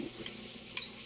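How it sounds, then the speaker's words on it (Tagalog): Sweet potato leaf salad ingredients are stirred and tossed together in a bowl, giving soft brushing sounds and about three crisp utensil scrapes at irregular points in a short burst. "I-mix ang lahat ng sahog."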